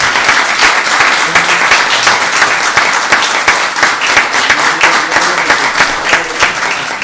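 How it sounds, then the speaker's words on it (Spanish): Loud, sustained applause from an audience after an archaeology heritage lecture, a dense wash of many hands clapping steadily for the whole stretch. "le damos un aplauso"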